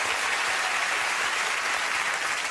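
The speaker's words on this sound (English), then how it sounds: "Yeah, clap." Studio audience on a television chat show breaks into steady, dense applause, a continuous wash of clapping filling the whole stretch at an even, loud level with no voices standing out.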